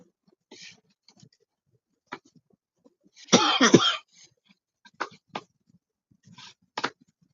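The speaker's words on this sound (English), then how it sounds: "really cannot stop coughing today" A person coughs nearby, one harsh burst mid-way, with scattered smaller throat clears and short coughs around it in a quiet room.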